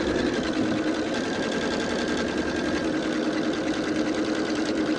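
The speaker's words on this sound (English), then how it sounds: "I will sew exactly to that seam right there, this seam where the needle is" A sewing machine stitches quilt fabric steadily along a seam, a continuous close whirring hum with a rapid mechanical needle rhythm and no pauses.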